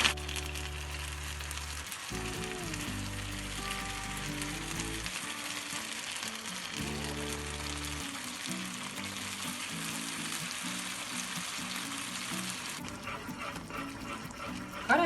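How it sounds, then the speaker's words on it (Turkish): A milk and starch mixture is poured gradually into melted butter for a caramel milk dessert, giving a steady, soft hiss of liquid and sizzle that shifts in texture partway through. "Bir su bardağı sütle nişastamı karıştırdım. Şu an onu azar azar içerisine ekliyorum arkadaşlar."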